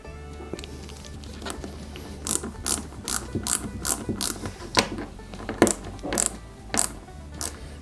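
A screwdriver drives small screws into parts of a 1/8-scale Altaya KITT Pontiac Firebird model car, giving repeated bursts of close, crisp ratcheting clicks with brief pauses between them.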